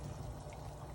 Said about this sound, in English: They go in.